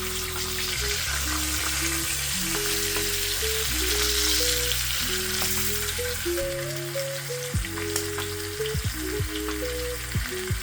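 Cornmeal-coated fish sizzles steadily in a frying pan, a loud continuous crackle and hiss with small spits and pops throughout, no voices.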